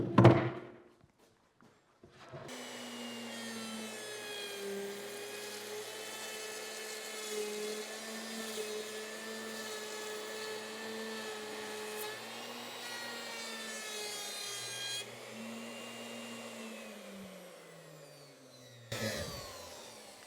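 A power router or saw cuts a rabbet into a cupped wood board milled from home-grown lumber, running steadily for about fifteen seconds at a loud, even whine with a brief knock before and after.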